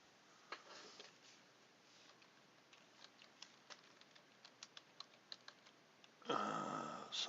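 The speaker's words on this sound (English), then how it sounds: "Typing that in." Soft, irregular key taps on a computer keyboard, sparse clicks scattered over several seconds at low level, ending in a louder burst of clatter.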